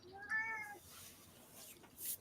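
A cat gives one clear, close meow, followed by softer rustling and a brief higher cry near the end, over a faint room hiss.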